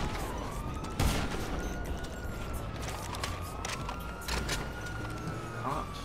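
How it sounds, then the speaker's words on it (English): Police gunfire in GTA on PS5, sharp scattered shots over wailing siren sweeps and a car engine, busy and fairly loud, with a voice talking under it. "Cops shooting at me too."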